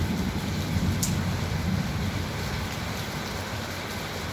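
Steady rain falling, a dense continuous patter with low rumbling background noise and no voices.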